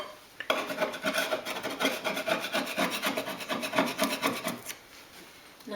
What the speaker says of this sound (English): Just wiping that copper tape.